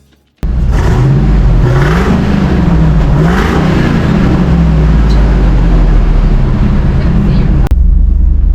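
A 2003 Ford Lightning pickup engine with stock exhaust cranks and catches, then settles into a loud, steady idle with a low rumble close by.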